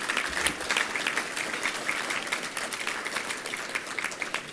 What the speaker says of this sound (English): That is worth applause.